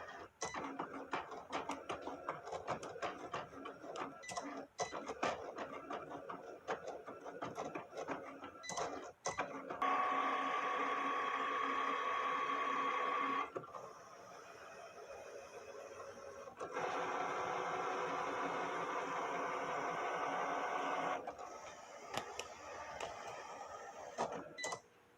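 A Cricut machine cuts graduation star stencils, giving a quiet whirring hum with the carriage motor rising and falling in long passes, broken by clicks and rustles of movement.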